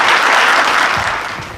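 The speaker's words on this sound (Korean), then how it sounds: "여러분 큰 박수로 맞으시면 감사하겠습니다" Audience applause at a book launch event, a dense, loud, steady wash of clapping from a crowd that fades slightly toward the end.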